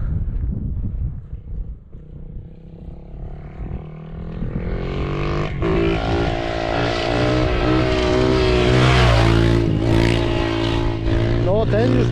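A Yamaha 450cc motorcycle ridden on its rear wheel swells from a distant drone into a loud, high-revving roar as it approaches and passes at speed, engine pitch shifting, while people talk nearby.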